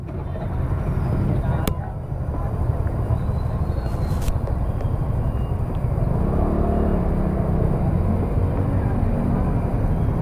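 Road traffic near Rosales Public Market, a continuous low rumble of passing vehicles with a brief sharp click and a rise in engine noise midway, moderately loud and steady.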